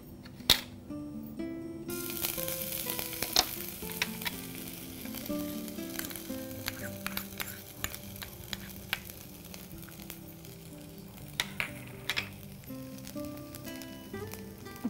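Grated ginger frying in hot sesame oil gives a steady, dense sizzle with crackles and light stirring scrapes throughout, close and continuous.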